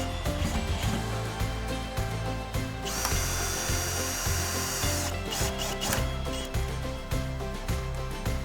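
A power tool works on a wooden folding workbench, fixing hinges to the legs under the tabletop: a steady, rhythmic mechanical whir with pulsing tones, a brighter burst of grinding in the middle, close and continuous without speech.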